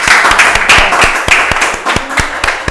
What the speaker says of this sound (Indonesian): Oke, tepuk tangan dulu dong buat Wafi.